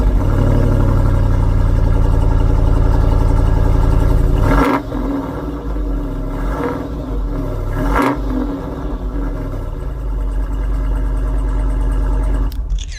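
A Land Rover engine starts by push button, a loud, deep rumble that settles into a steady running idle with a few revving surges.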